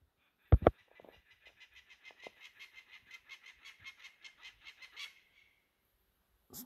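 A run of about twenty rapid, evenly spaced nasal honking calls from parrot-like birds at an abandoned quarry, fairly close and clear, following a couple of sharp handling knocks at the start, with no talking.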